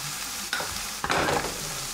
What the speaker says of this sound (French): On mélange tout ça.